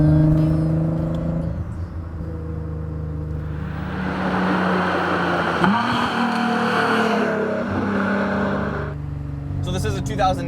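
A 2009 Nissan GT-R tuned past 650 horsepower accelerates through corners, its engine droning and rising in pitch across shifts with a broad rushing roar midway, heard from inside the cabin while a person talks over it.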